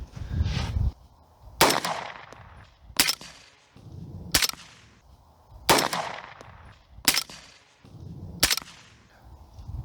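Six sharp suppressed rifle shots through a Dead Air Sandman suppressor, fired at a steady pace of roughly one every second and a half, each a hard crack followed by a brief decaying tail, with low rumble in between.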